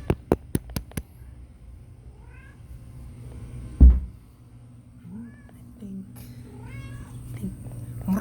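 A cat meows several times, with short mewing calls spread across the clip amid a few knocks and faint background hum, and a person mimicking meows nearby.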